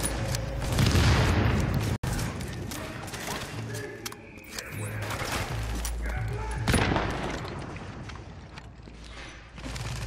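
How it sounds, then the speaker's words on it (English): Gunfire from the video game The Division, a busy exchange of shots and booms with a mechanical clatter, loud and close, with a brief dropout near the start and fainter firing trailing off. "Shooting."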